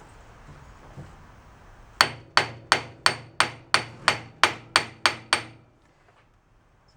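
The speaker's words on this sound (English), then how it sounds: "I think the trick is to leave the key there and tap the pulley off." A hammer taps a pulley off the shaft of a board track motor bike: ten sharp, evenly spaced metallic strikes close up, each ringing briefly, after a quiet start.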